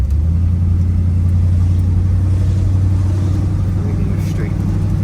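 A 1966 Chevrolet Impala SS with a 396 engine cruising, a loud low steady engine drone and road rumble heard from inside the car, with voices talking over it.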